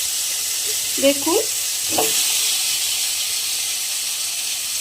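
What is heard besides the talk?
potatoes frying sizzling in hot oil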